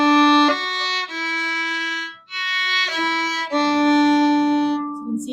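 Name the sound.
bowed string instrument playing long note then two eighth notes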